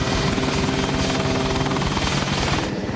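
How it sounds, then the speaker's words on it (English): An airliner on landing approach, nose low, left wing dropping and carrying too much speed, fills the air with a loud, unbroken engine roar that stays close and constant throughout. "As the plane approaches the runway, the nose is pointing dangerously low and the left wing is dropping."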